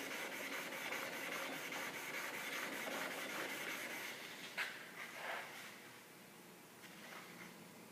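A steel chisel is sharpened on a sharpening stone, making a rapid, rhythmic scraping rub of repeated back-and-forth strokes, faint and close, with a few brief knocks partway through.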